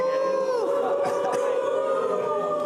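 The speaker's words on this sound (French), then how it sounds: "les huées viennent après une phrase maintenant" A studio audience boos together, a sustained droning crowd jeer of many voices with a few louder shouts cutting through, filling the whole moment close and loud.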